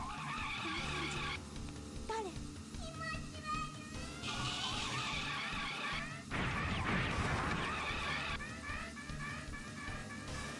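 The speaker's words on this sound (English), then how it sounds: "it'll minimize the amount of that horrible tire screeching sound" Tires screech repeatedly in the motorbike game Speed Power Gunbike, with wavering high squeals and crash-like bursts mixed with game effects, under a person talking.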